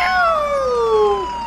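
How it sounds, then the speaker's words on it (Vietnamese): Fire truck siren in a mobile 3D driving game, a loud wailing tone with harmonics sweeping steadily downward for about a second before cutting off, heard alone. "À có mở còi hú được nè."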